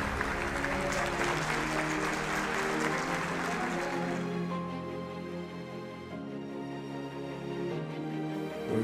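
An audience breaks into loud, sustained applause that fills the first half, then fades out, leaving quieter room tone and a soft sustained tone underneath.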